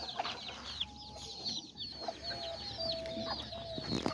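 Chickens and newborn chicks in a coop, with steady high chirping and peeping from the chicks over low clucking from the adult hens, close and continuous.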